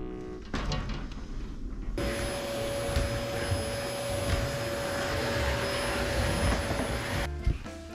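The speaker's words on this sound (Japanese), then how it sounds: "掃除機終わったよ" A household vacuum cleaner runs steadily for several seconds indoors in a home in winter, a loud constant whine with a high tonal hum, starting abruptly and cutting off near the end.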